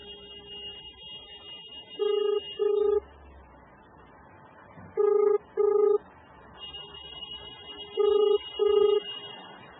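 A telephone line ringing while a call is being joined, three pairs of evenly spaced ring pulses over a faint hiss of line noise, no voices.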